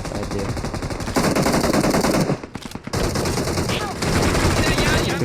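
Rapid automatic gunfire from the BGMI mobile battle royale game rattles in loud continuous bursts, breaks off briefly midway, then resumes just as intensely.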